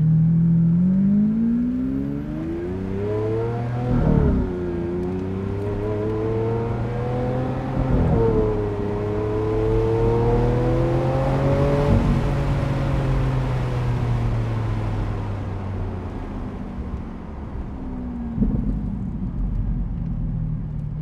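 A 2017 Lamborghini Aventador SV with a V12 engine accelerating through several gears, its loud, close howl climbing in pitch and dropping at each shift, with no talking over it.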